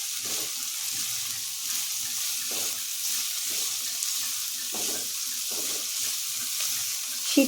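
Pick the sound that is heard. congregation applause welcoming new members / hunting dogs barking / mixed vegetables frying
mixed vegetables frying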